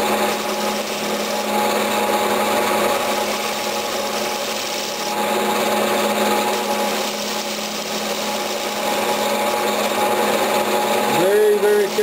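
A tool scraping across an apple burl travel mug spinning on a wood lathe, a continuous rasping rub with a faint motor hum underneath, close and steady, with a brief rising squeal near the end.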